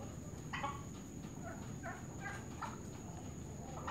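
Small chicks peep faintly in a farmyard, thin high chirps scattered across a few seconds over a steady low background noise, with no talking.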